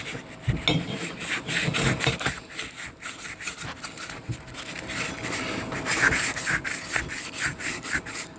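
A 320 grit cylinder hone works inside an engine bore with a steady, close scraping rasp that runs continuously, rising and falling in strokes, with no voices.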